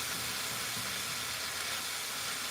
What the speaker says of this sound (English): I'm gonna add just a little bit of water. Just a tiny bit so it can steam up.